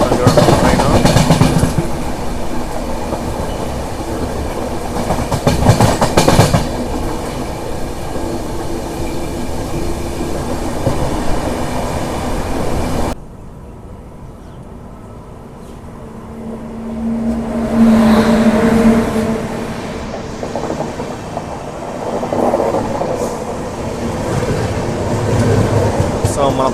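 A Telangana Express train runs close alongside on the rails, its loud rumble and clatter dipping briefly before swelling again, heard from a moving train.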